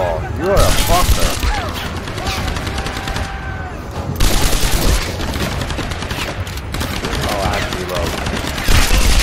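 Tomb Raider video game gunfire comes in loud, close bursts of automatic fire and scattered shots, broken by short lulls, with a voice talking over parts of it.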